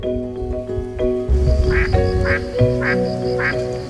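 Ducks at Longluan Lake in Taiwan, among them spot-billed ducks, give four loud, close quacks in a steady rhythm over a continuous droning background.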